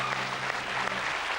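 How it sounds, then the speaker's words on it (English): Studio audience at a British live comedy chat show breaks into brief, steady applause, a full crowd clapping evenly with a couple of sharper individual claps standing out. "Give him a round of applause."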